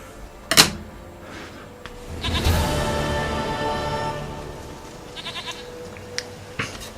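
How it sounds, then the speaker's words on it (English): A goat in Witcher 3 lets out a drawn-out nasal bleat after a sharp knock, followed by lighter clattering and taps, fairly close and without talk. "Goat of mine, dearest, sweetest goat."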